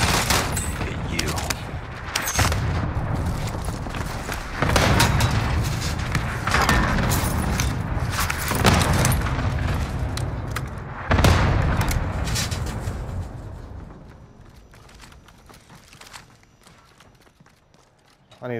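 Bursts of gunfire and explosions in a multiplayer shooter game, rapid fusillades and booms clustered through the first two thirds, then fading to quieter distant shots, with players' voices talking over the combat.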